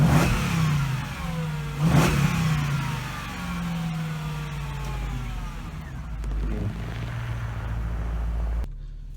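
Mercedes CLK55 AMG from 2001 with a hand-built 342 horsepower V8, accelerating hard in cold weather, its engine note climbing through gears with two sharp rev peaks early, then a sustained drone before cutting off abruptly.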